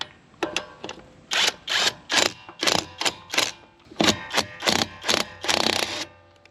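Alloyman cordless 1/2 inch impact wrench rattles through a series of short, loud hammering bursts as it spins nuts off, about a dozen rapid ratcheting pulses with brief pauses between, close up and without talk.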